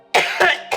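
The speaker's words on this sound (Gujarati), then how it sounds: "જો આવી ખાંસી આવે છે." A woman in a Gujarati family drama lets out a run of three harsh coughs close up, each burst short and loud with brief gaps between them.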